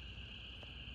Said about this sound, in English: That is mostly upland chorus frogs and American toads.